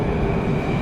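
A standard subway train rumbles loudly and continuously from close by in a brief burst, with rolling low-end noise and no talking.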